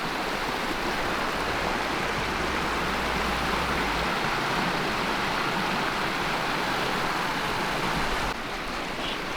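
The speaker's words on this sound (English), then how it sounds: "Check out the river though, the little creek." A small creek flows at a campsite with a steady, close rushing and babbling of water, continuous and unbroken, with no voices heard.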